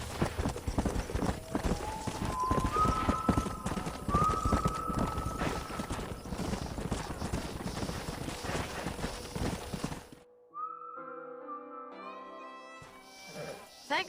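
Horse hooves clip-clop steadily through a busy Red Dead Redemption scene with a neigh, then fade out as the action cuts to quieter game sounds near the end.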